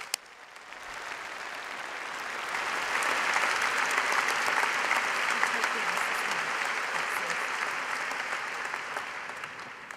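Sustained applause from a large audience at a university graduation ceremony, steady and dense for the whole stretch, swelling slightly in the middle before easing off.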